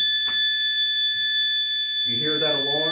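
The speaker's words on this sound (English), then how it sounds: "You hear that alarm?" A steady, piercing electronic alarm tone from a high-flow nasal cannula device sounds continuously and loudly, with a person starting to talk under it toward the end.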